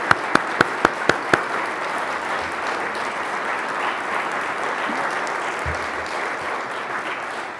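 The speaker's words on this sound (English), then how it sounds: "Let's give them a round of applause for their leadership." Audience applause at the Saint Paul 2017 city budget address, opening with a few sharp individual claps before swelling into steady, dense clapping from a large crowd that carries on evenly throughout.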